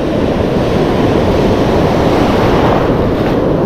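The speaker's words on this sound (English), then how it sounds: "it's a bit windy, a lot of waves, the currents are very strong" Steady roar of ocean surf and wind on a beach at Oceano Dunes, continuous and loud with heavy wind noise buffeting the microphone and no pauses.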